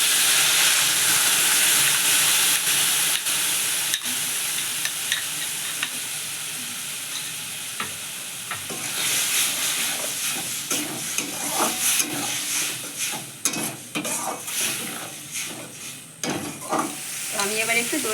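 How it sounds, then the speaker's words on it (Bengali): Sour yogurt poured into onions fried reddish-brown, sizzling loudly in the pan with steady stirring and scraping that grows busier and more clattery toward the end; no talking. "পেঁয়াজটা আমার লাল লাল করে ভাজা হয়ে গেছে, আমি এবার টক দইটা দিয়ে দেব"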